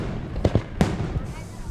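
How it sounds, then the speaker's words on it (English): New Year's Eve fireworks bursting over Burlington: three sharp booms, two in quick succession and a louder one after, with crowd voices and faint crackle in between. "An array of fireworks lit up the sky to celebrate a new year"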